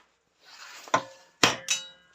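Hammer taps on metal while redoing the brakes of a 325 tds car, three or four sharp clanging strikes spaced irregularly in a quiet workshop, close and fairly loud.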